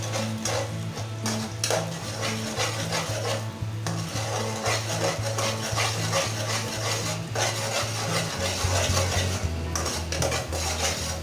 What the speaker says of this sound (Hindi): ये देखिए अच्छी तरह से हम इसको मिक्स कर लेंगे।